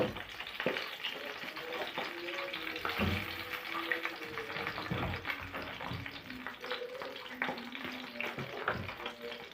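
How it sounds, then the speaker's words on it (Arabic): Eggplant frying in oil gives a busy, crackling sizzle with frequent scraping and clattering stirs, fairly close and steady for the whole stretch, with no talk. "هنقلي البتنجانه مع بعض بقى في الزيت"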